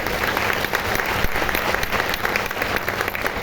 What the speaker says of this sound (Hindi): तो एक बार जोरदार तालियां ग्रॉस टीम के लिए